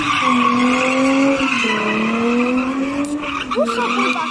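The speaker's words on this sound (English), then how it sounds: "He's gonna put up against the brake and then get his son to do a burnout." A car doing a burnout in a diff yard at Nutts Corner, its tyres skidding and squealing in a loud, sustained wail with rising and falling pitch, over a revving engine and occasional shouts.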